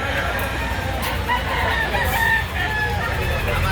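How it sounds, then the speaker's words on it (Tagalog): A rooster crows at a Saturday chicken market in Lipa City, Batangas, among clucking fowl and a busy crowd, while people talk nearby. "full stag kay Bossing, nasa mahigit sa 1 taon na kanyang edad"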